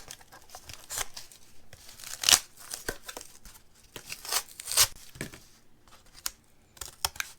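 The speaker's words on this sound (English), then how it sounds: "You're going to want a good heavy pair of scissors" Heavy scissors cut through crinkly paper mache material at close range: a series of irregular snips and crunches with papery rustling in the pauses.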